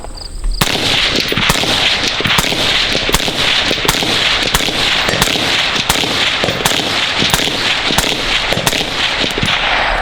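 Rapid suppressed gunshots fired through a SureFire RC3 suppressor, a steady string of sharp loud cracks about one per half second for ten seconds with no talking.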